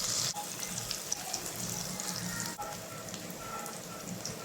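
Ingredients for upma fry in a pan, giving a quiet, even, rain-like sizzle that hisses continuously, with a couple of faint ticks and pops.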